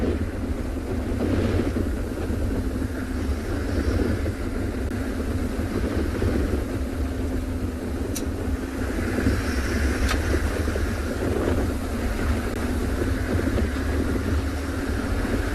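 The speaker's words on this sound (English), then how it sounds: "I will stop and turn off the engines" A safari game drive vehicle's engine running on a South African morning drive, a continuous low rumble with steady wind buffeting over the microphone, unbroken for the whole stretch with no talking.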